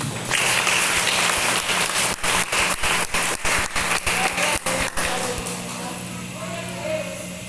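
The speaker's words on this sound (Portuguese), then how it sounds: "É uma salva de palmas por isso." Congregation applause in a church, a dense burst of clapping that turns into steady rhythmic unison claps before fading out, with a voice faintly audible toward the end.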